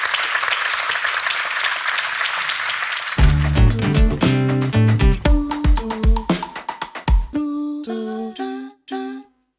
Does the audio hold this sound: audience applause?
yes